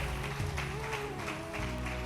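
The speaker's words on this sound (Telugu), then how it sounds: "గట్టిగా చప్పట్లు కొట్టి ప్రభుకు స్తోత్రం చెప్తారా?" A church congregation claps loudly and continuously in praise, a dense sustained wash of many hands under faint background music, filling the whole moment without a break.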